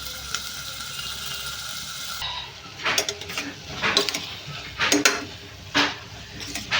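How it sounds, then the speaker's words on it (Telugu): Onions fry in a pan on a slow gas flame with a soft, continuous sizzle. A few clear clinks and scrapes of a utensil against the pan cut through it in the second half. "ఉల్లిపాయలు అయితే ఫ్రై అవుతున్నాయండి"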